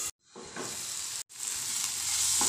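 Tomatoes cook in a covered pan over a low flame, giving a steady, moderately loud sizzle and hiss. Two brief dropouts break it, and no one speaks.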